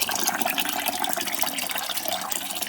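Hot water runs steadily from a tap into a container to flush out a hot vintage safety razor, a constant close splashing stream with no pauses.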